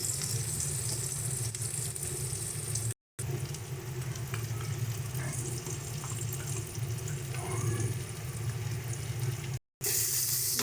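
Onion paste sizzles in a pan with lightly fried onions while a prawn dish is cooked, a steady, close frying hiss broken by two brief dropouts, with no voices.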